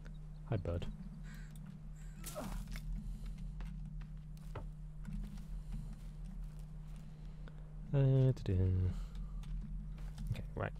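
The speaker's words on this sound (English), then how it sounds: "Hi, bird." A crow-like bird caws in the survival game The Forest, a short run of rasping calls near the end over low game ambience, with clicking keys and some talk elsewhere.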